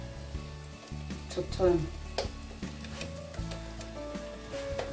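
Cameroonian puff puff dough fries in hot oil over medium heat, giving a steady close sizzle with small crackles while someone talks over it.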